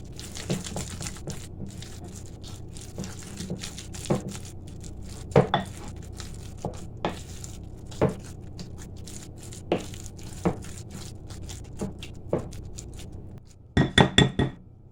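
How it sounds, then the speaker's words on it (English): Ham salad spread being stirred in a bowl, giving soft scraping and scattered clinks of a utensil against the dish, with a quick burst of sharper clatter near the end. "let's stir and get all of that incorporated"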